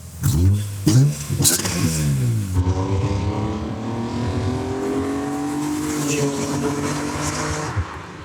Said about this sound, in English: It has a super sprint exhaust, which sounds a little bit like this.